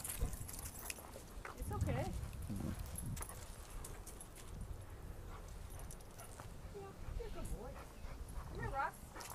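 Rough play between a German Shepherd and a Pitbull, with scuffling, yips and growling whines mixed under people talking nearby, steady and fairly close throughout.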